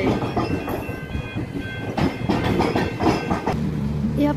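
A passenger train runs along its rails, a steady loud rumble with faint rhythmic clatter and brief squeaks throughout, no voices over it.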